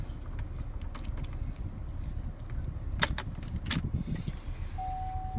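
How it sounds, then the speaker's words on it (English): Key inserted and turned in the ignition of a 2013 Buick Encore, a few sharp metallic clicks and jangles near the middle over a steady low cabin rumble, followed by a faint electronic tone. "you still need to put the key in and turn it."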